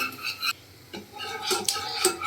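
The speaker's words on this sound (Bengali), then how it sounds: "এখন এটাকে চামচের সাহায্যে নেড়ে নেড়ে এটাকে ক্যারামেল করতে হবে, যাতে পুড়ে না যায়।" A metal spoon stirs sugar in a pan as it cooks into caramel for tea, scraping and clinking in short irregular strokes. The sound is close and moderately loud, with no voices.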